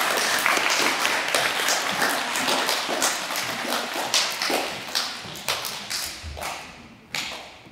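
An audience at a school presentation day claps in a round of applause, dense at first and then thinning into scattered individual claps and a few thumps as it dies away.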